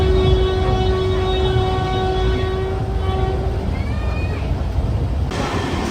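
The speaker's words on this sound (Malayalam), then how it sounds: "പിന്നെ ഒരുപാട് ലോക്കൽ ട്രെയിൻസ് ഉണ്ട്" A passenger train on the Mumbai to Pune route, the Deccan Queen Express, rumbles steadily close by with a long sustained horn tone and a brief squeal, with no talk over it.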